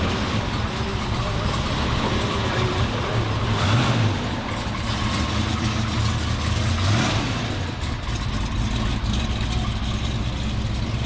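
A 1971 Boss 351 Mustang runs nearby at a Pigeon Forge rod run, its engine rumbling steadily with a couple of brief revs amid crowd noise.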